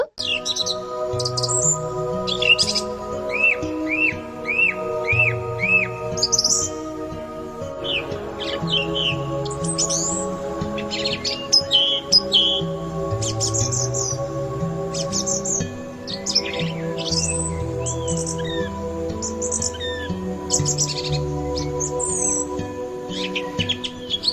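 Bright thrush song with repeated whistled phrases and chirps over a steady background of soft music, continuous throughout.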